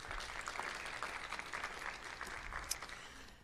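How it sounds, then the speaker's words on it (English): Audience applause at an oceanography lecture event: steady, dense clapping from a crowd, moderately faint and distant, holding evenly for a few seconds. "Let's give that a round of applause,"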